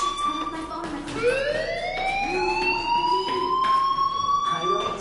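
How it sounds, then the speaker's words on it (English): Fire alarm in the video game Life Is Strange, a rising, wailing siren tone that climbs and holds steady, heard over background game sounds and a speaking voice. "do you hear that fire alarm?"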